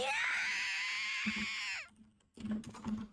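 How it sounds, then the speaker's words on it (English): A long, loud shrill scream rings from outside a room in a visual novel video game, sustained with wavering pitch before cutting off, followed by brief soft clicks. "I was jolted awake by a scream coming from outside my room."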